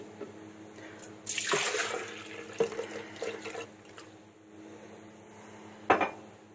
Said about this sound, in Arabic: اول خطوه هننزل بيها، هننزل باللبن.